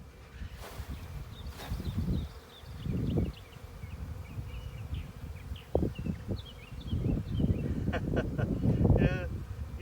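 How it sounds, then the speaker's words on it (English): Honeybees shaken off a hive frame onto a ramp during a shook-swarm lesson: a low hum with dull thumps and scuffles from the shaking, heard near and under people talking. "shaking the bees, always at an angle, and the bottom of the frame is parallel with the ramp"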